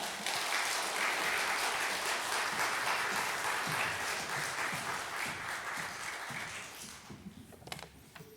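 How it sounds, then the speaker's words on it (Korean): A congregation at a church revival meeting claps to welcome the preacher to the pulpit, a dense burst of applause that holds for about seven seconds, then dies away into a few scattered claps and small knocks. "나오실 때 환영하는 마음으로 박수 한번 하겠습니다."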